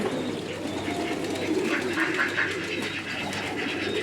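Pigeons coo steadily in a loft in Qatar, a soft continuous murmur of several birds with low hum in the background and no talking.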